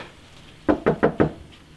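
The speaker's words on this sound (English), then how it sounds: "Alright, knock on the door." Four quick knocks on a door in an even rhythm, close and firm, with quiet background before and after.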